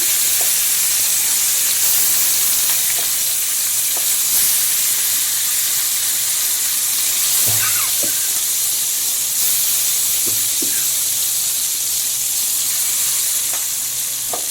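Topshe fish frying in hot oil alongside potatoes, a loud continuous sizzle and hiss with occasional small pops and light clinks, close up.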